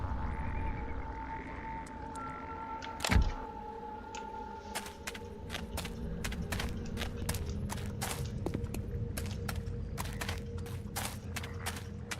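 Frogs croaking in the Demonicon video game, a run of clicky croaks that starts sparse and speeds into a dense rapid rhythm over steady ambient background, with one loud thud early on.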